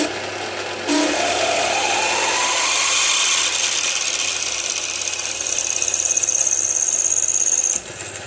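A drill bores a 10 mm hole in a metal workshop, a steady loud whine and grinding that runs for several seconds after starting abruptly, then cuts off.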